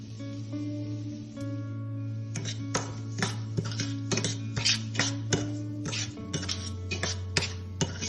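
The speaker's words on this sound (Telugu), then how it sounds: "ఇది నెయ్యిలో రవ్వ వేసుకొని వేయించుకోవాలి." Semolina roasting in ghee as a metal spoon stirs and taps against the pan in quick, irregular clinks over a steady low hum, close and fairly quiet.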